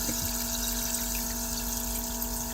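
A recirculating pump pushes wort through a sparge-nozzle aerator at full flow, giving a steady close liquid rush with a constant mechanical hum and no talking.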